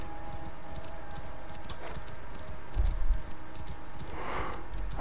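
Horse hooves gallop in Assassin's Creed Origins, a steady rapid clip-clop rhythm close up, with a louder thump midway and a soft swell of ambient game sound near the end.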